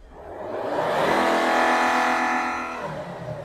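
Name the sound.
Volvo diesel engine revving as accelerator is pressed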